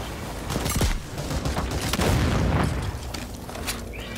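Grenade blowing up in the sci-fi shooter Second Extinction, a close, loud burst followed by a second heavy boom and scattered crackling debris.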